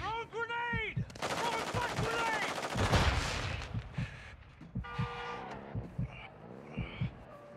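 Bursts of video game gunfire, with rapid automatic volleys and scattered single shots, loud and close, mixed with other game effects and brief voices.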